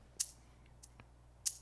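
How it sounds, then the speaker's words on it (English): Tambourine sample from a Boss DR-01S rhythm machine: three short, bright jingling hits spaced irregularly, faint against a low background hum. "Here's tambourine."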